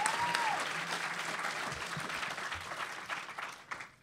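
Live audience at a convention podcast taping applauding, a sustained wash of clapping from a large crowd with a few cheers, tapering slightly toward the end, with faint voices mixed in.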